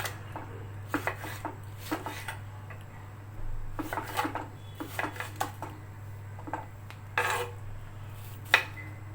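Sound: cutting tomatoes with a knife

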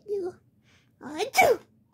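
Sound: sneeze

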